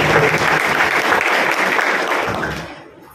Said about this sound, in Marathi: तर जोरदार टाळ्या तुम्हा बऱ्या पिढीसाठी तुम्हा सर्व कार्यकर्त्यांसाठी